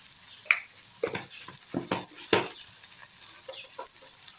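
Ground coriander, turmeric and cumin being sautéed for a Bengali fish egg curry: soft scattered sizzling and occasional stirring taps in a pan, quiet and close, with no talking.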